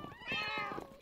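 A single drawn-out meow from a cat in the video game Minecraft, clear and close, lasting about a second.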